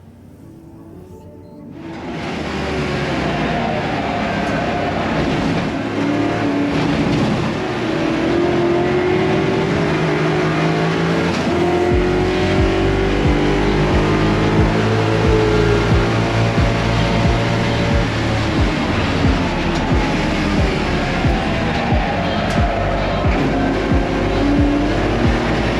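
An H-pattern Ford Mustang race car at full throttle during qualifying, its engine note rising as it launches and then roaring loud and sustained with shifting revs and gear changes, close by and without speech.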